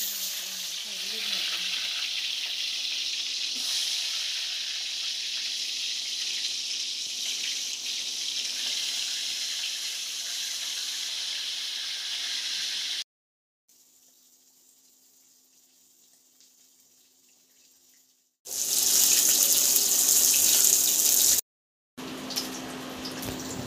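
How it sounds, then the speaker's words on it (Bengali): Fish heads fry in hot oil in a wok for preparing dal, a broad steady hiss and sizzle that drops away briefly before returning loud and harsh, with no one speaking. "মাছের মাথাগুলোকে আমি লাল করে একটু ভেজে নেব।"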